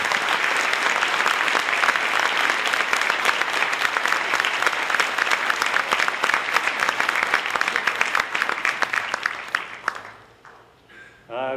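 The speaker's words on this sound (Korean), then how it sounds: "여러분들 뜨거운 박수 부탁드리겠습니다" Warm, sustained applause from a large company audience at an in-house concert-style event, dense and even for about ten seconds before thinning out into scattered claps and trailing off.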